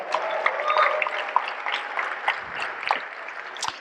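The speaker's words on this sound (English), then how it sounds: "Please give them a big round of applause." An indoor audience at an awards gala applauds, a fairly faint, uneven patter of clapping that carries on throughout with no speech over it.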